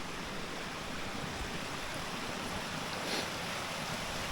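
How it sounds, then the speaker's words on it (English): Small stream with a little waterfall on a freezing, windy winter camping trip, giving a constant hissing rush of running water, steady and moderately loud with no talk. "Okay, we're at the stream."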